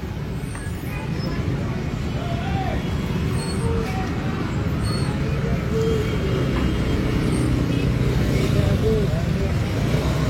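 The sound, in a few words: street traffic on Jalan Merdeka, Pematang Siantar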